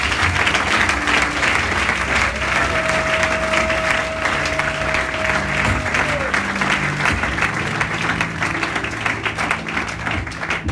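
A church congregation applauds the Lord in a dense, continuous burst of clapping that holds loud and even throughout, with a sustained tone and a few voices blending into the crowd noise.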